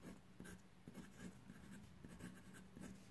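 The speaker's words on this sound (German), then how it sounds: "natürlich hier schreibe ich dasselbe drauf" A fountain pen with a broad nib scratches across thin Tomoe River paper in short repeated strokes, quiet and close, with no voice.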